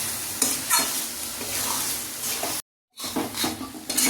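Prawns sizzling and being stirred in a pan of banana flower curry, a continuous close frying hiss with scraping stirs and light clinks of the utensil, broken by a short silence.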